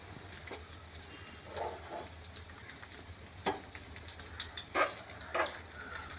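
A snack fries quietly in a pan with turmeric, chilli and salt, giving a low, steady crackle broken by a few brief spattering bursts.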